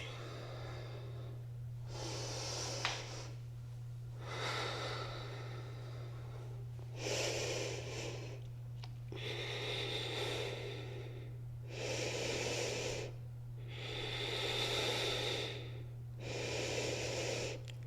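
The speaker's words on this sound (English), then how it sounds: "we'll hold this for 5 more deep breaths" Deep, slow breaths held through a yoga plank in a slow-flow balance class: about four full inhale-exhale cycles of close, airy rushing in steady rhythm over a constant low electrical hum, with no talking.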